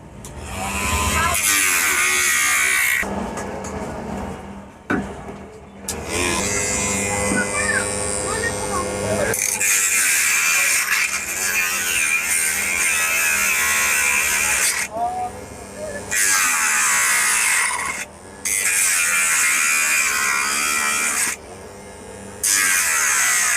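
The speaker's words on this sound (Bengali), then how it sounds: "এখন আমরা আপনাদেরকে এটা দিয়ে এই পিভিসি পাইপটা কেটে দেখাবো" Homemade 12V angle grinder built on a 775 DC motor cutting PVC pipe, whining loudly in repeated bursts separated by short pauses, with someone talking between the cuts.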